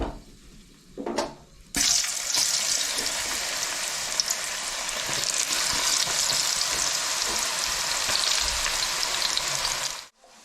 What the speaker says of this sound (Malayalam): എണ്ണ നന്നായിട്ട് ചൂടായി വന്നിട്ടുണ്ട് കേട്ടോ. നമുക്കിതിലേക്ക് കപ്പട്ട് കൊടുക്കാം.